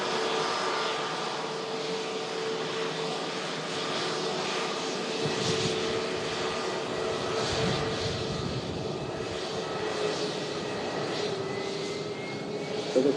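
A Pegasus airliner, just landed from Istanbul, taxis past a runway viewing park at Manchester Airport, its steady jet engine whine and roar holding close and even throughout, swelling slightly toward the end.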